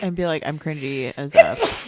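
A single sharp sneeze bursts out near the end, right after a person's quick spoken line, close and fairly loud.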